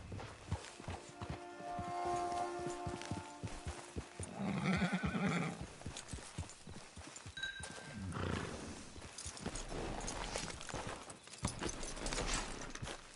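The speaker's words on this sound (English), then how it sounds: "Hitch your horse." A horse neighs loudly nearby, followed by hooves clip-clopping at a walk as it is brought up to a hitching post at a camp, with faint voices and other movement around it.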